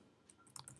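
Quick keystrokes on a computer keyboard while entering a terminal command, a short burst of several crisp taps close by after a brief quiet lead-in.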